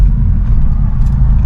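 Steady, loud, deep exhaust rumble from a BMW 430i Gran Coupe with a B48 engine, stage 2 tuned with bolt-ons, droning continuously at speed with no break.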